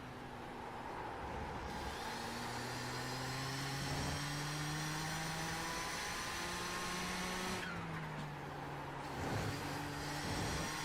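An Audi race car engine in iRacing's IMSA Classic 500 at the corkscrew, droning steadily with rising and falling pitch as it shifts through gears, with a second car's engine layered close by.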